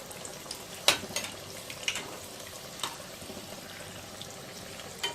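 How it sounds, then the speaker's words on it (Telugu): Banana bajji, sliced raw banana in batter, frying in hot oil, giving a low steady sizzle with a few sharper crackles and stirring clicks, close up and with no talking. "కలుపుతూ 2 వైపులా కాల్చుకోవాలి."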